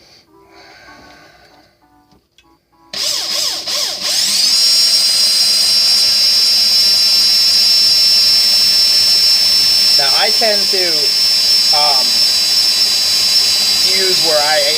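A small hand drill spins steadily, winding fuse wire around a single-core Clapton vape coil. The whine is loud and continuous after a short quiet start, and someone talks briefly at the beginning and again over the winding.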